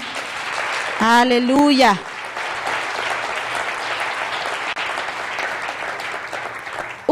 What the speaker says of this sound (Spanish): ¿Por qué no dar un aplauso al Señor?